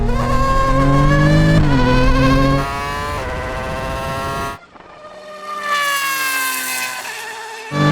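Three machines, an F1 car, a MotoGP bike and a 1,400 hp Porsche 911, launch from a 50 mph rolling start in third gear, loud overlapping engine wails climbing in pitch through upshifts, then dropping briefly before rising again.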